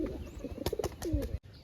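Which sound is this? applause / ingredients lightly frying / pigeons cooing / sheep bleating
pigeons cooing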